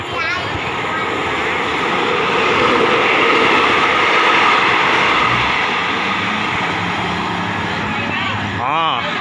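Thai special express train number 7 pulling into Chum Saeng station: a loud, continuous rumble of wheels and cars rolling close by, with a brief rising tonal sound near the end.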